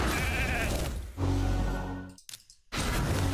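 A sheep bleat from the polymorph skill in the Summoners War live arena rings out loud and close, a long wavering cry over game effects and music, followed by a brief sharp break and more busy game sound.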